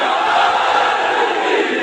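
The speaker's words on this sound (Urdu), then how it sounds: "نعرے حیدری!" A conference crowd roars a religious slogan in unison, a dense, loud wall of many voices that holds steady for about two seconds.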